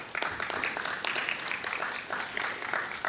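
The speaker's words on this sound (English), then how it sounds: "Do give them a round of applause." Audience applause at an environmental research symposium, a steady patter of clapping from a moderate-sized room that holds evenly for about three seconds, heard from a middle distance and not especially loud.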